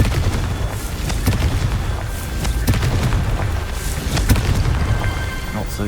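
Confringo spell explosion in the Hogwarts Legacy video game, heard as a dense rumbling blast with crackling bursts over loud continuous game ambience, along with a voice casting the spell.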